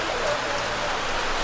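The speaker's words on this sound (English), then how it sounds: "I'm not sure if I have enough for the amount of rain that's happening right now." Heavy rain pours steadily during a hike on Pacaya Volcano in Guatemala, a dense, even hiss of drops close by that fills the whole moment without letup.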